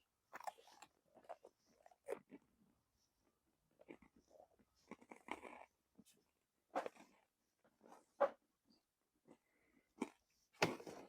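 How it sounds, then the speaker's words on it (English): A crunchy sandwich is bitten and chewed close to the mic, in irregular bursts of crisp crunching separated by quiet pauses, with no talking over it. "I'm up to the crunch part of the sandwich"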